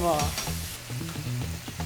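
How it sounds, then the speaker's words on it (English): Hot oil crackles and sizzles loudly as chicken deep-fries, with bursts of spattering and a few low clanks, no talking. "Ooh, you hear that sizzle?"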